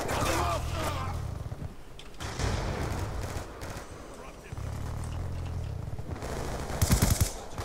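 Pistol gunfire in Black Ops 2 during a Domination match, with repeated sharp shots and bursts among game noise and explosions, loud and close, mixed with talking.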